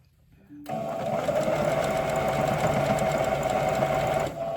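A sewing machine stitches the hem of a pair of leggings, starting abruptly and running as a steady, even mechanical whir with a fast stitching rhythm before stopping near the end.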